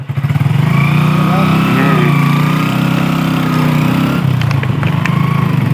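A motorcycle engine runs steadily up close for several seconds with a loud, continuous low drone, then slightly shifts and quiets near the end, while people talk over it outdoors.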